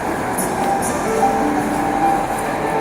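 Steady rumble of trains and station ambience at Antwerp's main railway station, with faint high squeals and a continuous low drone throughout.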